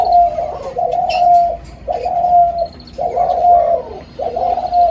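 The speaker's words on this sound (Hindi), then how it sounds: "ये साथ में स्पॉटेड डव की आवाज़ आ रही होगी पीछे से" Doves coo in repeated rounded phrases with short gaps, a spotted dove calling among them, fairly close and clear in a shed setting, with faint chirps behind and no talk.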